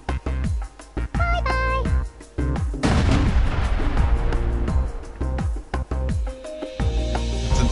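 Rapid bursts of weapon fire and a heavy explosion in Worms Battle Islands, loud and busy, with game music and effects underneath.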